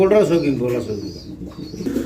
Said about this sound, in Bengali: এটা মুন্ডিয়ান কবুতর একটা জোড়া